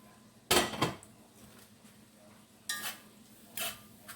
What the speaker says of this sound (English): Make sure you constantly stirring these cabbage.